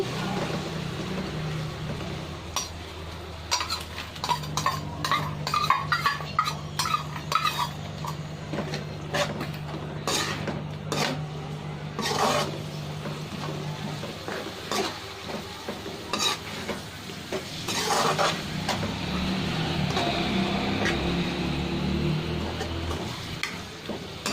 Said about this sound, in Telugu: మొత్తం కలిపేసుకోవాలి.